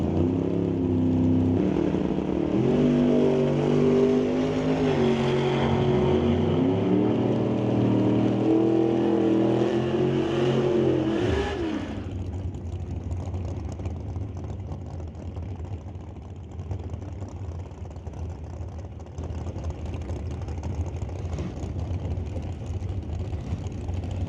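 A drag racing car makes a run at an NHRA Summit ET Series race. A loud, steady engine roars with rising revs for about twelve seconds, then drops into a rougher, lower drone that continues to the end.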